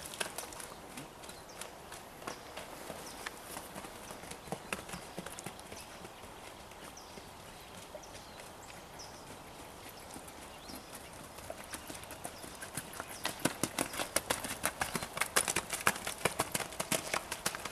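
Horse hooves plod steadily in a muddy riding arena, a dense stream of clip-clop steps that grows louder and sharper toward the end, with no talking.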